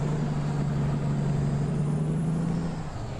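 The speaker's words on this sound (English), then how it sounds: "Truck sounds amazing too." A heavy truck engine from the American Truck Simulator game drones at a steady low pitch, loud and continuous, then eases off slightly near the end.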